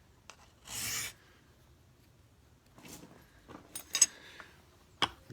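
Metal file rasping along the back edge of a Mora knife to square a 90-degree spine, a few scattered strokes heard up close, with one longer broad rasp early and sharper short scrapes later, no talking.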